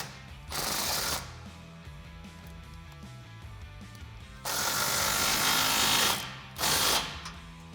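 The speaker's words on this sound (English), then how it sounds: "Then we can tighten up the clamp, the over axle and tailpipe on the driver's side." A 15mm socket ratchets on a tailpipe exhaust clamp beneath a Tacoma during a Flowmaster American Thunder dual side-exit exhaust install, in two bursts of close, dense scraping clicks separated by quieter handling.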